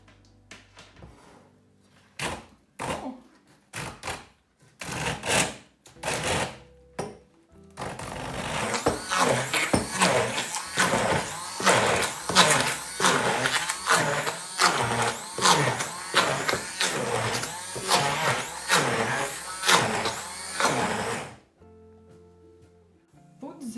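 Bean chocolate brownie batter with oil being mixed by machine, a few separate bursts at first, then a steady run of rapid rhythmic whirring and thumping that cuts off abruptly near the end.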